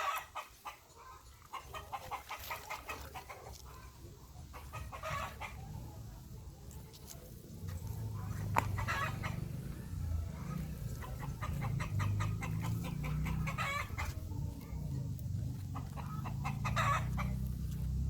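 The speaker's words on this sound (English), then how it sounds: "These hens, they are thin." Hens cluck repeatedly in a rural village yard during the rainy season, their short, rhythmic calls near and fairly clear over a low, steady background rumble, with no talking.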